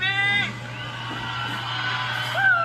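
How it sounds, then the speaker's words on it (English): A stadium crowd at a World Supercross race in Argentina roars and whoops, with a loud voice yelling over the steady cheering. "The crowd is insane."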